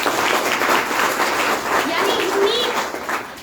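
A meeting audience breaks into steady, dense applause of many hands clapping together, fairly loud and close, lasting a few seconds before fading, with a voice speaking over it.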